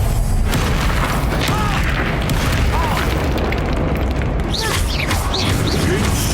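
Fire-spell blasts during a wizard duel in the video game Hogwarts Legacy: a loud, dense, continuous roar of booming, crackling magic with swishing effects layered on top, filling the whole stretch.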